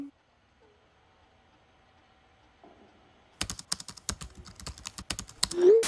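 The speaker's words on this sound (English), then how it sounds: "So now she gets back to typing with Mitch." Rapid, loud typing on a computer keyboard in a film, bursts of sharp key clicks starting after near-silence in the first half, with a short vocal sound at the end.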